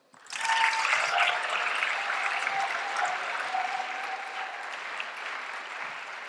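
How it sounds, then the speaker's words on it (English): Sustained audience applause at a talk on caring for an aging parent, starting abruptly and holding steady as a dense wash of many hands clapping, fairly loud and close, with a faint whistle-like tone running underneath. "So please, big round of applause for Norbert."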